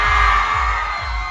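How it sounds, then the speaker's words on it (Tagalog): A crowd at a parade lets out a loud shout that fills the short moment. The shout is a dense, sustained roar of many voices with a few thumps underneath. "Isang malakas na sigaw, okay?"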